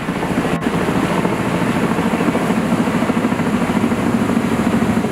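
A helicopter's steady rotor chop drones continuously, loud and unbroken, with a low thudding pulse throughout, over a mountain valley at Seoraksan.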